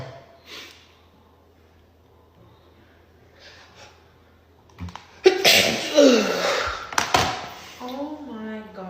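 A man fakes a loud, sharp sneeze partway through after quiet breathing, a voiced imitation rather than a real one, followed by a burst of reaction and talking.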